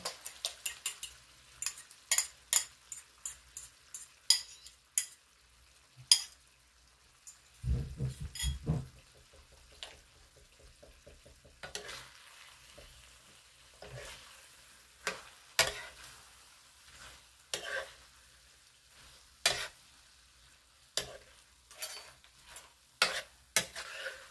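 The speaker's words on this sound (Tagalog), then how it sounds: "Lagay na po natin ang 2 itlog." Two eggs are stirred with ampalaya in a pan, a faint background sizzle beneath frequent sharp, irregular spatula taps and scrapes against the pan, with a brief louder rumble partway through.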